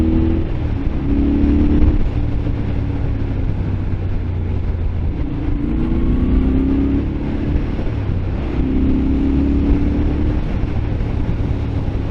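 A Moto Guzzi Griso motorcycle rides along narrow country lanes, its engine note a steady drone that swells and eases in gentle repeated surges, with some wind rush over the top.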